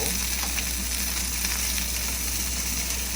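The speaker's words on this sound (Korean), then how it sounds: "넣으면 이렇게 버터가 녹죠 버터가 녹고 로즈마리 향도 같이 배어나면" Butter melting and sizzling with rosemary beside a tomahawk steak in a hot pan, a steady loud dense crackle that runs unbroken throughout, with no voices.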